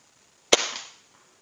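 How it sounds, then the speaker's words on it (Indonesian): A single sharp, muffled shot from an air rifle fitted with a Neo Gorilla suppressor, with a quick smack on a paper target, followed by a short fading tail, then quiet. "Tembakan pertama pada target kertas."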